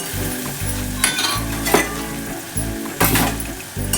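Ground spices such as chili, coriander and cumin powder sizzle in hot oil in a pan for an okra and egg curry while a utensil stirs them, with steady frying hiss and intermittent scraping clinks.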